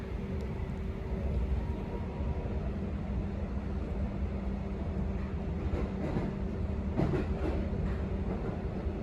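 A train pulls in at Fawkner station on Melbourne's Upfield line with a steady rumbling roll and some faint rail clatter. The sound stays continuous and moderately loud, with brief squeals toward the end.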